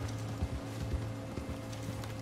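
Horse hooves clip-clop steadily in the Red Dead Online video game, a rhythmic trotting beat at moderate distance over a low steady hum, with no talk.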